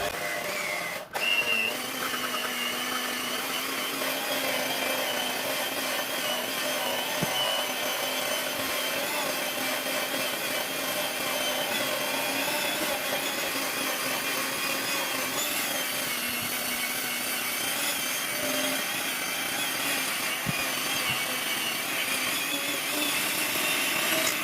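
A hand mixer kneads soft donut dough in a steady, unbroken motor whine that runs loud and close throughout, with no voices.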